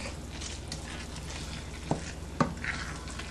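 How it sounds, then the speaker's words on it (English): A spoon stirs a wet rice mixture for stuffed peppers in a pot, steady soft squishing and scraping, close up with a couple of sharper knocks against the pot, no talking. "Now you want to stir this in real good"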